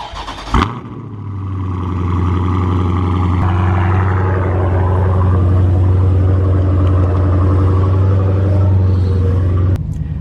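Car engine cold start: a brief cranking burst and catch, then a loud, steady low idle rumble that holds evenly for several seconds, close up with no talking.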